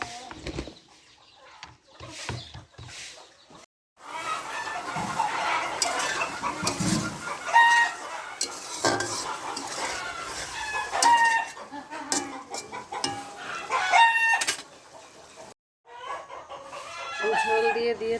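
Chickens cluck and a rooster crows intermittently amid a busy farmyard, with bursts of bird calls rising and falling over steady background noise.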